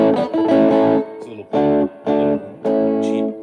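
A Gibson SG electric guitar played through a distortion pedal with humbucker pickups, sounding as loud sustained chords in several separate bursts with short gaps between them.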